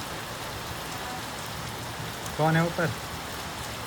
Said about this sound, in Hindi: बारिश भी कितनी तेज आ रही